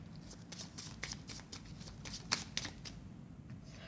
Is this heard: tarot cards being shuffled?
yes